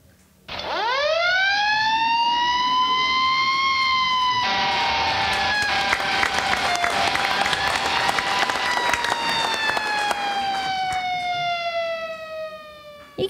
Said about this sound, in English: That was a really good siren.